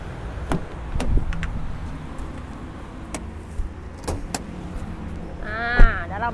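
A 2013 Toyota Vigo 2.5 E Prerunner Cab4 pickup with automatic transmission being opened, with scattered sharp clicks and clunks of latches and a door, a short whirring motor near the end, and faint speech.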